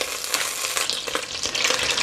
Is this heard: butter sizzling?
yes